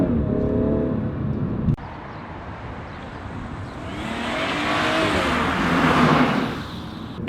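A BMW 440i M Sport's engine and exhaust while driving, a steady close drone with a sharp shift blip partway through, then the note building and rising under acceleration before easing off.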